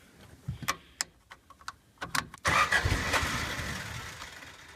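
A homemade car with a 1.6 liter 4AC overhead cam engine is cranked: a few sharp clicks and ticks, then the engine catches and runs with a loud, steady rumble close by.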